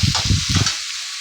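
Onions fry in a pan for spring roll filling, a brief close sizzle with a few quick scraping stirs before it quiets.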